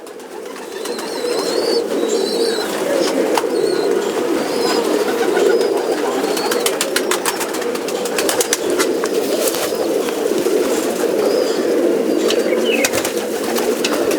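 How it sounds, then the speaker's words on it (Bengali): Pigeons in a home pigeon loft in Bagnan Kulgachhia coo steadily and loudly up close, with occasional wing flaps and rustling throughout. "তো ভালো লাগছে পায়রাগুলো দেখে"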